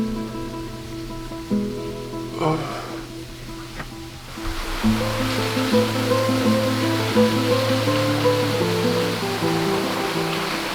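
Steady rushing water flows throughout, growing fuller partway through, with a low tonal hum running underneath.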